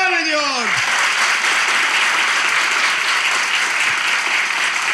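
A theatre audience in Kadıköy applauds steadily, a dense, even wash of clapping that fills the whole stretch after a brief voice or sound effect at the start.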